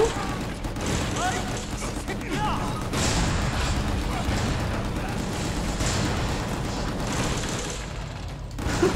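Explosions and crashing blasts from the action shooter video game Gungrave G.O.R.E, heard as dense, continuous booms and bursts of gunfire-like impacts filling the whole stretch at steady loudness.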